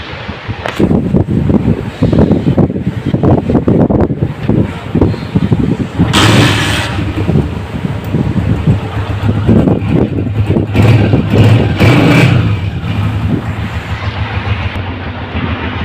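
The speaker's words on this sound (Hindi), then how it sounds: "अभी बाइक को स्टार्ट करेंगे, सबसे पहले इसका साउंड सुनेंगे" A 2019 Honda CG 125 motorcycle with euro 2 modifications starts up and settles into a loud, steady idle up close, its low engine rumble running throughout with a few sharper mechanical bursts and no talking.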